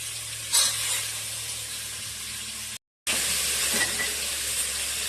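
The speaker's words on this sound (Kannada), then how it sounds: "ಕಾಳು ಚೆನ್ನಾಗಿ ಫ್ರೈ ಆಗ್ತಾ ಇದೆ" Sprouted field beans with potato and brinjal frying in oil, a soft steady sizzle and hiss close by, broken by a brief silent gap partway through, with a faint clatter near the start.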